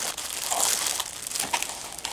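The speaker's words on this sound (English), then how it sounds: "So I'm just cutting this open. Here we go. Got that terrible styrofoam." Styrofoam packaging is handled while a katana is unboxed, close crinkly squeaks and rustles in short uneven bursts.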